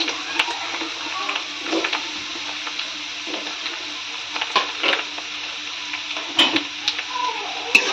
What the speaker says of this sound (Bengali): তেল গরম হয়ে গেছে, এবার পেঁয়াজ কুচিগুলো দিয়ে দেবো।